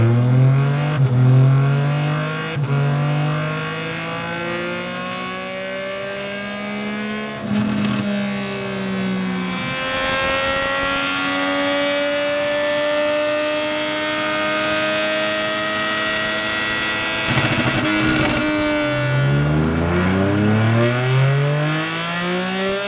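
A 2024 Triumph Street Triple 765 RS with a decat exhaust revving hard on a dyno, loud engine climbing through long sweeping pulls with brief drops and re-revs, steady and close throughout.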